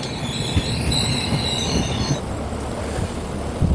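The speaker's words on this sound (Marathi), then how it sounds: "आता आपल्या ट्रेनचं अरायवल जे होत आहे" The Nanded–Pune Express rolls into a station in heavy rain in Marathwada, its steady loud rumble of wheels and carriages continuous throughout, with faint high squeals over the rolling noise.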